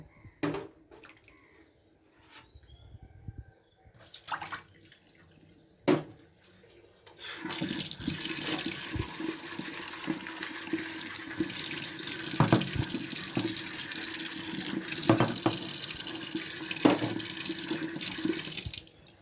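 Tap water runs steadily while sour green mangoes and dal are washed in a sink, starting with a few soft knocks and splashes, then a continuous close gush with occasional clatters of the bowl, no talking.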